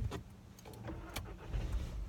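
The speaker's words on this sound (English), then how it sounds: "Sorry, I'd start my car." Car engine starting nearby, a brief cranking rumble with low engine noise rising and settling over a couple of seconds, no talk.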